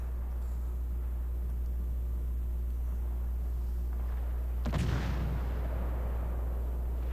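Heavy ship gunfire from a World of Warships Legends naval battle: a low steady engine rumble runs throughout, then one loud boom of a salvo lands near the middle and trails off into a rumbling decay.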